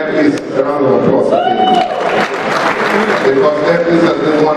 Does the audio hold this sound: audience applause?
yes